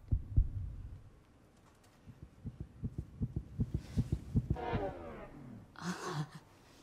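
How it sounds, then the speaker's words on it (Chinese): Fast heartbeat sound effect in a television drama scene, a steady run of soft low thumps quickening across several seconds, followed by a breathy sigh. "你心跳好快啊"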